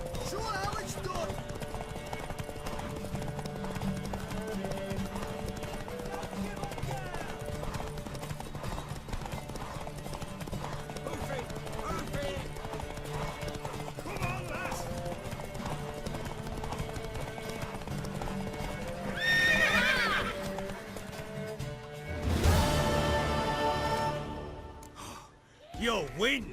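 Galloping horse hooves in a Witcher 3 horse race, pounding steadily under game music and voices, with a louder burst of effort and breathing near the end.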